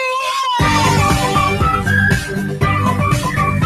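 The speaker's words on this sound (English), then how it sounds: "In a whole wide world, it's whistling" Bright whistling tones glide and hold over a busy musical backing, steady and fairly loud throughout.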